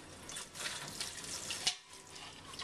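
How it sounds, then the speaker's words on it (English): Thin jets of water squirt and splash from small Yixing purple clay tea pets, a steady hissing trickle with a brief louder spurt near the end, close and quiet with no voices. "Now they're shooting water quite well, both of them."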